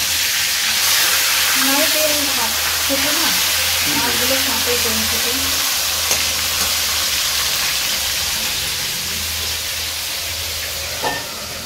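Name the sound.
fish frying in a pan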